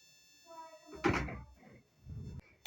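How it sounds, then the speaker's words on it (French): A door opens with a single heavy thunk in the 99 Nights in the Forest video game, preceded by soft game tones and followed by lighter shuffling knocks. "Ouvrir la porte."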